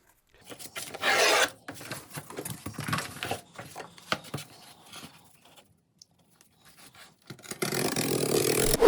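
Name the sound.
trimming a piece of cardboard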